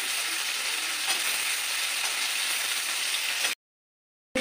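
Beans and carrots fry for chowmein with a steady, even sizzle and light stirring, moderately loud, before the sound cuts off abruptly into silence near the end.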